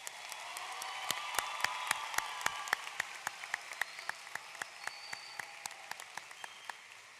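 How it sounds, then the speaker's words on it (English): A crowd applauds the graduating class at the Hialeah Miami-Lakes Senior High 2024 graduation ceremony, a broad wash of clapping punctuated by sharp, regular nearby claps, steady throughout. "Can we please have a large round of applause for the graduating class of Hialeah Miami-Dade Senior High?"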